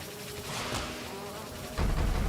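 A Cannon Bee enemy in Hollow Knight gives off a steady insect-like buzz with a sharp burst partway through, then a louder low rumble near the end, all fairly faint.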